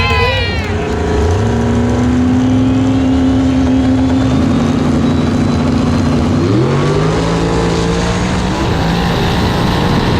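A race car engine in a woods racing event revs hard and close, a loud continuous roar whose pitch climbs, dips and climbs again throughout.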